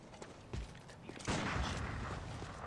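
Gunshots in a video game: several sharp reports, then a heavier blast that rolls into a sustained loud rumble of fire, fairly close.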